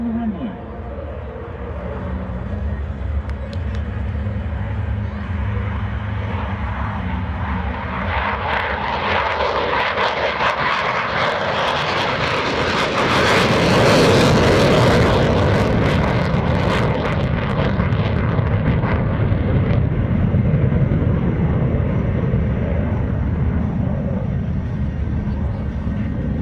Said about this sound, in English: Looks like the mighty F-22 Raptor has arrived just in time.